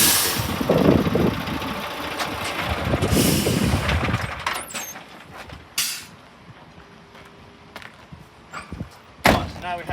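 Articulated truck tractor unit engine pulling forward against a coupled trailer to test the fifth wheel and kingpin, heard as a low rumbling drive for about four seconds that then drops to idle, with a few sharp clunks and knocks.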